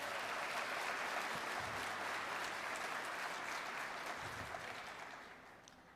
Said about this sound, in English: Let's give Kakawista a big round of applause,